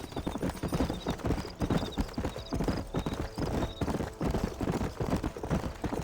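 Horse hooves gallop in a rapid, steady clip-clop rhythm in Red Dead Redemption, loud and close, with occasional whinnies and faint game music over it.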